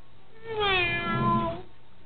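A voice imitates a cat, giving a single drawn-out meow that rises and falls, clear and close in a quiet room.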